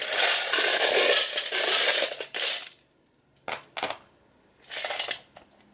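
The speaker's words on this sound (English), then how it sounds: "So I'm going to pull some charms now" Small metal charms are pulled and clink together in bursts: a long jangling rattle up close, then a few short separate clinks with quiet gaps between them.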